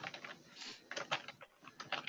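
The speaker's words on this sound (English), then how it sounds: "Oh no, he's okay, typing." Keystrokes on a computer keyboard clatter in quick, irregular bursts with short pauses, fairly close and moderately loud, with no voices over them.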